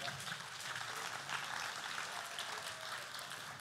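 At a school network's anniversary event in an arena, a large crowd applauds to welcome the next speaker. It makes a dense, continuous roar of clapping throughout, heard from a distance.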